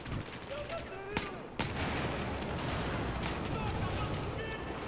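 Desert Eagle pistol fire in a video game: two sharp shots close together about a second in, followed by dense continuous distant gunfire and rumbling battle noise.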